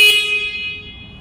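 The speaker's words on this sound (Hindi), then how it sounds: "हॉर्न को प्रेस करके चेक करते हैं कितना डीबी तक साउंड जाएगा।" A single loud motorcycle horn blast from a 2023 Jawa, steady and bright, starting abruptly and fading slightly as it holds for about a second.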